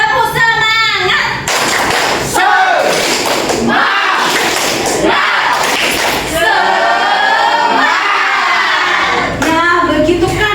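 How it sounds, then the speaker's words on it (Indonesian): Primary school class performing a rhythmic clapping chant, bursts of loud group claps alternating with children shouting chant words in unison, close and energetic. "Tepuk semangat."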